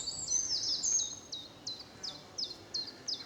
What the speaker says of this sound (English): You can hear a chiff-chaff calling in the background.